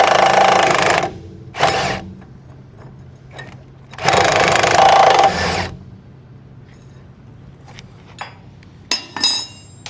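Cab bolts on a Steiger Tiger II tractor are loosened with a power tool: two long, loud whirring bursts, then quieter metallic clinks and rattles of tools and hardware nearby, with no talking.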